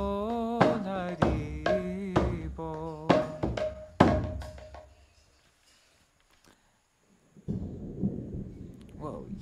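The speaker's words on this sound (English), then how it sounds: "Whoa, you hear that thunder?" Deep thunder rolls in as a low, broad rumble after several seconds of chanted singing from a devotional kirtan program give way to near silence.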